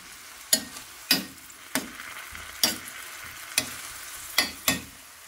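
Vegetables sautéing in a pan with a little pepper, stirred in several sharp scraping strokes, each with a brief burst of sizzle, over a steady low frying hiss; close and fairly loud, with no talk.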